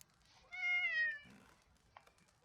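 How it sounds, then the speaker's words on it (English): In The Witcher 3 video game, a cat gives a single clear, drawn-out meow, a bit distant and fairly quiet, with a soft faint rustle after it. "Oh, hi, kitty."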